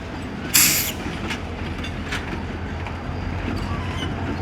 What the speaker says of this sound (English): Well, the train is backing up now.